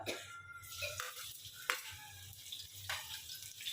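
Chilies dropped into hot oil for a Marathi-style paneer chilli: soft crackling sizzle with a few sharper pops and stirring scrapes, close and moderate in volume, no talk.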